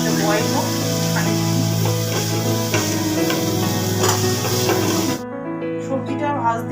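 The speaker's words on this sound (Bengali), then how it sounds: "সবজিটা ভাজতে দিয়ে গেছিলাম" Vegetables fry in a pan with a loud, continuous, close-up sizzling hiss that drops away abruptly near the end, leaving quieter background sounds.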